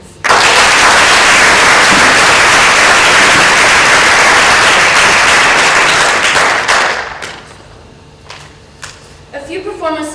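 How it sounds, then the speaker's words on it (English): A large TEDx audience bursts into loud, dense applause for the speakers that holds for several seconds, then thins out and fades to scattered claps. "A round of applause for our speakers, please."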